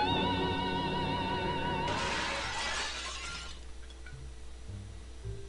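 A glass window shatters in a point-and-click flash game, broken by a gramophone playing a record. The burst of breaking glass follows a sustained musical tone, and the fragments tinkle out into quiet.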